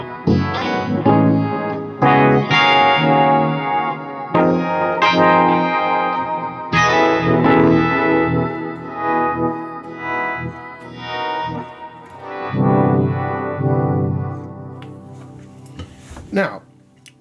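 An electric guitar goes through a pitch-shifting Pitchfork pedal while a volume pedal swells notes in and out, making layered, shimmering chords that rise and fade with a textured, effect-laden tone.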